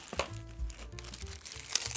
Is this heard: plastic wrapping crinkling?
yes